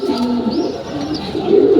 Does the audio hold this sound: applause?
no